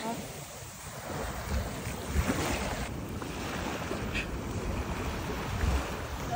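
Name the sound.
big sea waves in the morning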